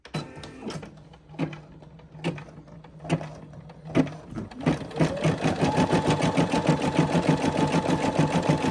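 A Brother SE600 embroidery machine stitching a design, its needle starting with a few separate thumps before settling into a steady, rapid mechanical rhythm that runs on loud and close.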